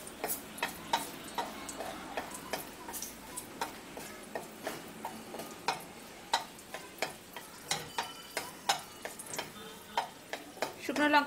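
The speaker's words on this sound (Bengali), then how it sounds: "প্রথমেই আমি তেলের মধ্যে শুকনো লঙ্কাগুলোকে ভেজে নেব" Dried red chillies fry in mustard oil in a karahi, crackling with sharp popping ticks over a faint sizzle. The pops come in a fairly regular run at moderate volume and grow busier toward the end.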